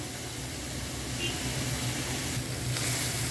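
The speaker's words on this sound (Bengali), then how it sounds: "তেল ছাড়া পেঁয়াজটা নরম হয়ে আসছে" Chopped onions dry-fry in a pan over high heat without any oil, the base for a country magur catfish bhuna, giving a steady, close sizzling hiss throughout.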